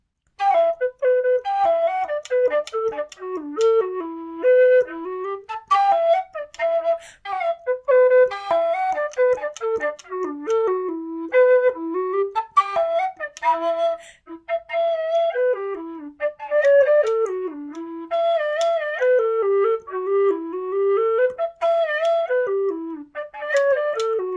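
A Susato low D whistle fitted with low hole keys plays a flowing tune alone, a steady breathy melodic line with short gaps between phrases and no talk.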